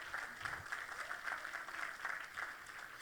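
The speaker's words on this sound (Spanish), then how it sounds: "Dale un aplauso fuerte al Señor." A church congregation applauds steadily during a sermon, a faint, distant wash of clapping that runs evenly throughout with no voices standing out.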